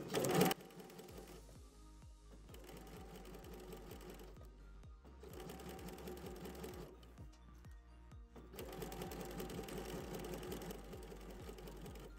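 A sewing machine stitches a zippered cushion cover in three bursts of rapid, even needle thumps, with short pauses between them. The machine is close and fairly quiet.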